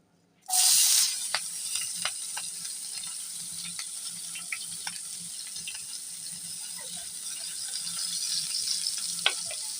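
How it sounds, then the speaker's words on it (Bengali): Chopped onion hits hot oil in a frying pan after boal fish has been fried, bursting into a loud hiss from near silence. A steady crackling sizzle with scattered pops follows. "তেলটি গরম হয়ে গেছে এখন দিয়ে দেবো পেঁয়াজ কুচি"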